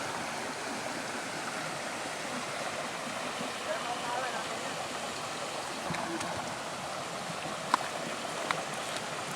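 A shallow creek flows steadily, giving a continuous close rush of water with a few faint knocks and splashes.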